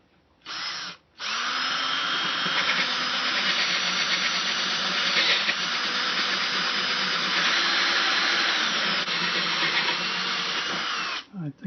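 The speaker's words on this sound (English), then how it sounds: "I need to get my stronger drill and finish it off" A power drill boring through wood on a baritone ukulele whines loudly and steadily for about ten seconds after a brief start-stop burst, cutting off abruptly at the end.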